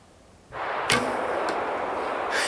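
A traditional bow is shot uphill on a sloped 3D archery course, giving one sharp release crack followed by a second impact at the target and a faint later knock under steady outdoor background noise.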